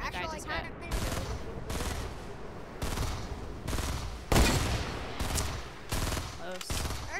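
Bursts of automatic gunfire in a 50 v 50 online shooter match, several separate volleys of a second or so each with short gaps between, close and loud, with a heavier crack midway.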